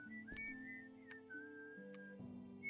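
A person whistles a wandering tune indoors at close range, with held and sliding notes broken by a few sharp clicks or knocks in the background, and no talking.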